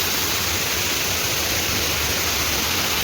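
Ruhtu waterfall roaring nearby: a dense, constant rush of falling water, loud and unbroken throughout, with no voices.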